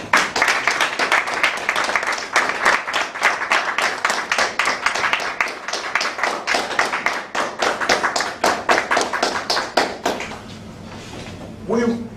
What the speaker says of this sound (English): Please clap for this event of our club